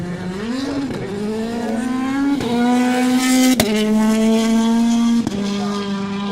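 A rally car at WRC 2017, Cholmondeley Castle, takes a tight left-hander at speed, its engine note loud and close, holding a steady high tone that rises and drops with gear changes and throttle blips, with no talk.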